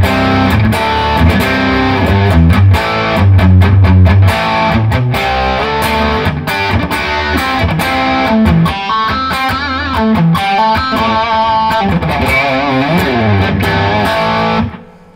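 Electric guitar driven through a Seymour Duncan Palladium distortion pedal plays loud, sustained distorted chords and quick riffs, with dense harmonics and short stabs, and the guitar is heard alone.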